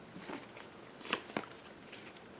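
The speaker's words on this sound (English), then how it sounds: "let's get this colors deck back here, and let's just shuffle that up" A deck of colour cards from a board game is shuffled, giving a few quick crisp riffles and snaps, fairly quiet and close.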